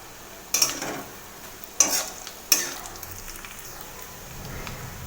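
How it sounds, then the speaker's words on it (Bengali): Dried fish and onions stir-fry in a pan for a taro leaf dish, with a soft background sizzle broken by three sharp scraping stirs of the spatula. "সেই শুটকি মাছটাকে এবার আমি এর মধ্যে দিয়ে দেবো, দিয়ে এটাকে আবার ভালো করে নাড়িয়ে ভেজে নেব একসাথে"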